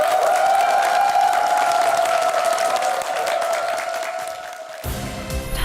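An audience in a lecture hall claps to welcome a guest speaker, the head of a Shanghai trading company. Steady applause runs beneath a sustained tone, then cuts off abruptly near the end.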